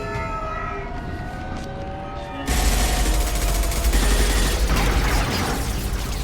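Gunfire in the video game Mass Effect: a dense, steady burst of shots and booms that starts abruptly partway through and stays loud to the end, following a quieter stretch with a droning, siren-like tone.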